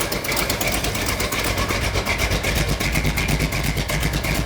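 A car engine runs steadily at idle after an exhaust manifold repair, with a slight leak remaining on the passenger side; a continuous close rumble with a rapid regular exhaust pulse and no talk.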